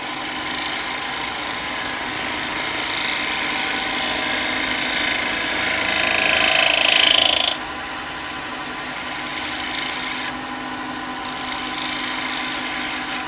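A wood lathe spins steadily while a gouge cuts a cowboy hat shape from wood, giving a continuous close whirring hum with a rising scrape that swells and then drops away.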